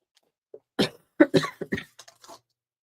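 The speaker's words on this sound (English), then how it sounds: "Sorry to be coughing in your ear." A person with allergies coughs several times in a quick, close burst, a cluster of short harsh hacks in an otherwise quiet room.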